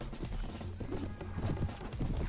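Rapid, steady clip-clop of galloping horses' hooves in the video game Mount & Blade: Warband, close and continuous, with a low rumbling bed beneath.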